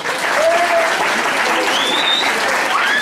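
Loud, dense applause from students at a school music event, a sustained crowd of clapping hands filling the space, with a few faint whistles or squeals over it.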